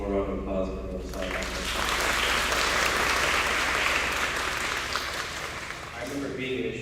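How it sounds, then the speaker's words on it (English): A graduation audience applauds steadily for several seconds, a dense wash of many hands clapping, with a voice speaking before the clapping starts and again as it tapers off. "Please, one more round of applause for the side."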